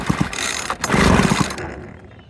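A Husqvarna 141 chainsaw, freshly freed after seizing, is pulled over by its starter without firing, a rough mechanical whirring and rattling that rises and then fades off, close and fairly loud.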